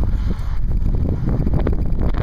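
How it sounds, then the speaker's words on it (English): Strong wind after a big blizzard roars steadily and buffets the microphone with a dense, low rumble that stays loud for the whole stretch, with no voices. "It's also very windy."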